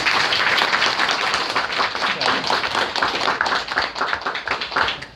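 An audience at a Jeju 4.3 history lecture gives the lecturer a round of applause, dense, lively clapping that stays loud and continuous throughout.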